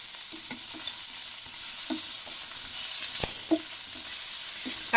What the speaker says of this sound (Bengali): দুটো এলাচ আর 2টো লবঙ্গ, সবগুলো দিয়ে আমি একটু ভাজবো